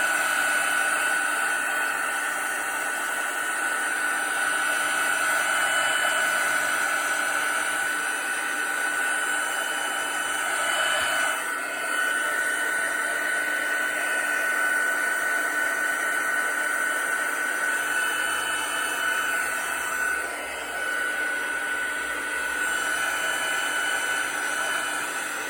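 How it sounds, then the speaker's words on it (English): A heat gun dries alcohol ink on a vellum card, giving a continuous, even, breathy blowing roar. It runs close and unbroken throughout, with only slight dips in level and no speech. "I'm just gonna put the heat gun on this a bit."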